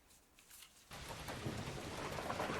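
Steady rainfall swells with a deep rumble of thunder, the whole storm growing louder partway through and then holding dense and constant. No voices are heard.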